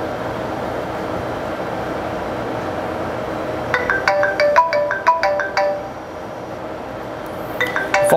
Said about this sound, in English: Phones are started ringing.